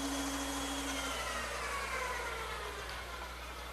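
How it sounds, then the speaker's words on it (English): A bandsaw cuts through a 1x6 wood board, giving a steady broadband whine and rasp under a low motor hum that holds fairly constant for a few seconds and eases slightly toward the end, with no talking. "I'll cut it on my bandsaw"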